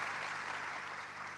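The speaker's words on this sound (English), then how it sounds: "everyone starts clapping and cheering because this was the conference in Munich" Audience at a conference in Munich clapping steadily, a dense continuous wash of applause that holds at the same loud level throughout with no voices standing out.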